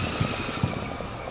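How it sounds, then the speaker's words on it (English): Helicopters arriving in the war game Combat Mission Black Sea, a steady mid-level rotor and engine drone with a couple of soft low thumps, heard alone without talk. "the helicopters have arrived"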